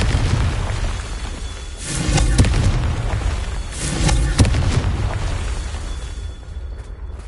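Booming explosions from the Confringo spell go off in quick succession, with two or three heavy blasts standing out over a continuous rumbling, crackling din.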